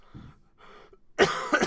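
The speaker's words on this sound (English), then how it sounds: "stop coughing." A person coughs twice in quick succession, loud and close, after a couple of soft breathy sounds.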